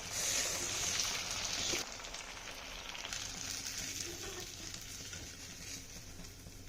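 A burger patty frying in a pan until golden gives a steady close-up sizzle, brighter and louder for the first couple of seconds, then settling into a softer, even crackle with no talking.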